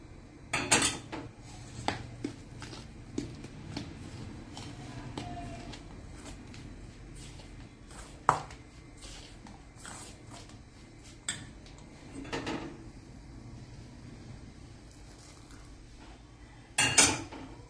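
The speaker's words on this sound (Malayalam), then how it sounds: "ഇപ്പം തിളച്ചുകൊണ്ടിരിക്കുന്ന വെള്ളമായതുകൊണ്ട് ആദ്യം സ്പൂൺ കൊണ്ട് കുഴക്കാം" A spoon works rice flour with boiling water in a bowl, producing scattered scraping and clinking knocks against the bowl at an uneven rhythm, close and without talk.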